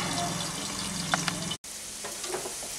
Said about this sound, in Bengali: এখন এটাকে আমি ঢাকা দিয়ে ভাজছি, যাতে আলুটা ভাজার সময় খুব ভালোভাবে সেদ্ধ হয়ে যায়।